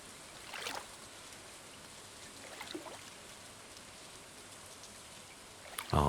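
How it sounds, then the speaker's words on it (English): Soft, steady rain ambience from the video game Stardew Valley, a quiet hiss with a few faint drips, heard alone and low in level throughout. "very cozy with the rain noises and everything"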